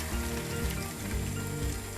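Homemade vegetable stock pours into a hot pan of Chinese restaurant-style mixed vegetables, making a continuous close, hissing splash that churns steadily for about two seconds with no talking.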